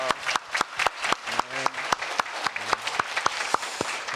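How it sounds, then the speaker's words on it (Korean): A church congregation applauds during a Korean-language Sunday service, with sparse, distinct claps ringing out at an uneven rhythm against a background of low voices and a few held tones. "우리 하나님께 감사의 박수 올려드리겠습니다."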